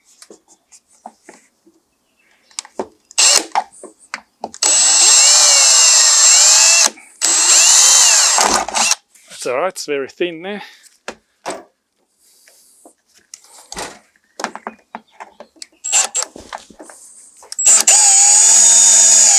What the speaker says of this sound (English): you've got to drill a little bit in an angle here